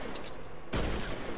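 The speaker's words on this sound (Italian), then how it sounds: "Quindi sparo con il super trinciatore e faccio 9 alle pietre" A sudden burst of dense, crackling gunfire from the super shredder weapon in a game breaks in partway through, loud and continuous after a busier stretch of game noise.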